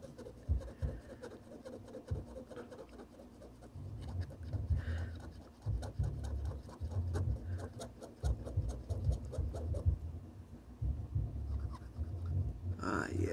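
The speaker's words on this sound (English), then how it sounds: "Just grabbed a cotton swab and some isopropyl alcohol." A cotton swab soaked in isopropyl alcohol scrubbing flux residue off a Game Boy Micro circuit board, with soft, quick rubbing strokes that come in bursts and pause briefly between them.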